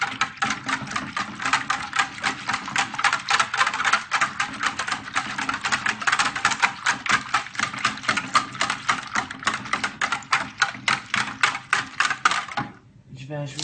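Eggs whisked by hand for Passover crêpes, a fast, steady, rhythmic clatter of whisk against bowl running continuously for over twelve seconds before stopping.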